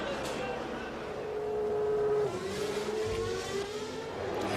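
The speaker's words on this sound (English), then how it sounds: "Hill outsprinted his team leader down to the Tamburello corner" Formula 1 race cars from the 1993 season accelerating off a wet start at Imola toward Tamburello, high-pitched engine whine climbing and sweeping in pitch over a continuous roar, loud and close, with a commentator speaking over it.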